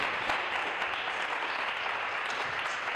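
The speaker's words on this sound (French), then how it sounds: "Faites l'acclamation." Steady, dense applause from a church congregation fills the whole stretch, loud and close with no pauses, and a faint voice surfaces briefly beneath it.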